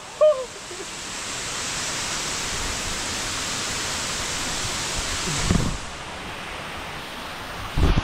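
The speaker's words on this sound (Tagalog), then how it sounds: "Amamaliwan Falls!" Amamaliwan Falls waterfall in Calbayog City roars as a steady, broadband rush of falling water, loud and continuous throughout, with brief faint bumps near the start and end.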